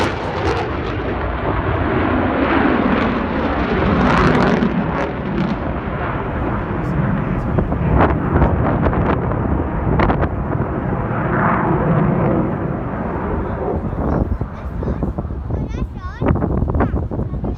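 A Eurofighter Typhoon jet flies a display at the Battle of Britain Memorial Flight Members Day 2022, accelerating to 600 knots and pulling a 9G break. Its loud, continuous engine roar runs throughout, with a voice speaking over it.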